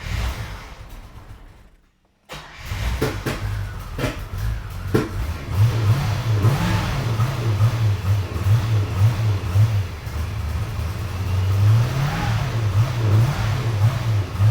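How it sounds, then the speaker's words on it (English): A C4 Corvette engine is revved repeatedly while warming up, a close, steady engine roar rising and falling in surges for most of the stretch after a brief cut-out near the start. "It's revving good."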